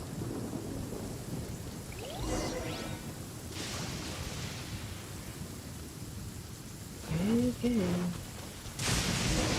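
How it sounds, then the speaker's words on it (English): Lightning storm in the video game Genshin Impact: steady rain hiss under rumbling thunder with sharp whooshing cracks, while a person talks briefly over the weather. "Uh-oh! Lightning storm!"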